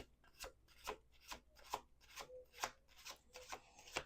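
Soft rhythmic rasping strokes repeat about twice a second, faint and close, as a tarot deck is rubbed and shuffled by hand.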